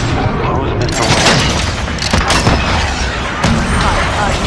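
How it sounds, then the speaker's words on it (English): Dense explosive booms and rapid gunfire roar almost without pause during a cruise missile strike in the shooter game Call of Duty: Modern Warfare, loud and close, with sharper blasts standing out near the middle and end. "Cruise missile go for launch."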